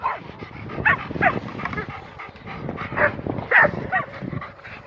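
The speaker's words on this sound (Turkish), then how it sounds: "Tamamen normal bir köpek yani." Several dog barks and yips in irregular bursts, fairly close, with some whimpering between them and a faint voice underneath.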